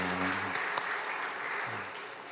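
A church congregation gives brief, soft applause for the worship musicians during a Sunday service, scattered clapping heard at a distance, with faint voice tones at the start.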